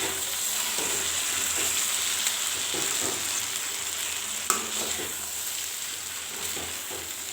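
Okra and potatoes fry in a pan with a steady, moderate sizzle, broken by occasional stirring scrapes and one sharp clink partway through, with no talking.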